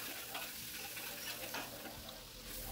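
Soft, steady frying sizzle of two tablespoons of butter in a frying pan, crackling at low volume for a few seconds, with faint scraping or stirring noises.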